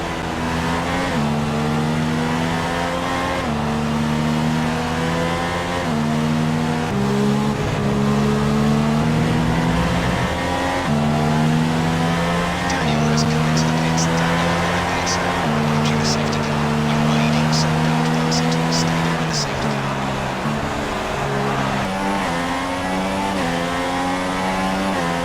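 Formula 1 car engines race in the F1 2016 video game at the Canadian round in a Red Bull, a steady loud engine drone with shifting pitch from gear changes running throughout under continuous talk.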